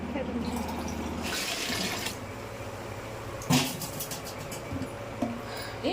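Water is poured into a cooking pot for a batch of about one and a half kilos, a splashing, rushing stream near the microphone in a home kitchen, with brief clanks and bursts of splashing along the way.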